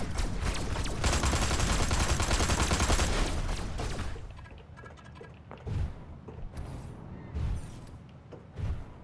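Video-game gun firing: a dense burst of rapid, loud shots for about three seconds, then scattered single sharp cracks and mechanical clanks at lower level.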